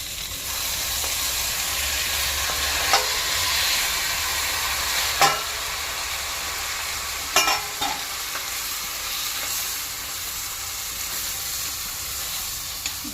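Tomatoes for pav bhaji fry in a hot pan with a steady, loud hissing sizzle that holds for the whole stretch, broken by a few sharp scraping stirs and spits nearby.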